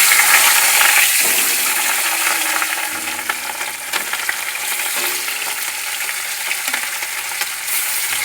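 Fish sizzling steadily as it fries in hot oil for a sarso katla dish, a loud continuous crackle with occasional stirring sounds and no voices.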